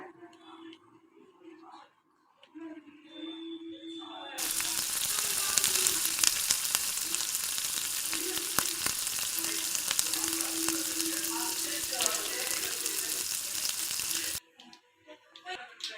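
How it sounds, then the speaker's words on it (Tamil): Mustard and fennel seeds crackle and sizzle in hot oil in a pan, a dense, steady hiss that starts abruptly and runs for about ten seconds before cutting off, with quiet talk before and after. "இப்போது ஆயில் ஹீட் ஆன அப்புறம் கடுகு அண்ட் ஃபெனல் சீட்ஸ் போடுங்கள்"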